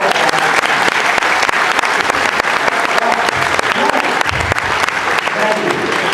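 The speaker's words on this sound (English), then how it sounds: "Give them a round of applause." A crowd at a ceremony honoring a group of young men gives loud, dense applause that holds steady for several seconds. Faint voices mix into the clapping.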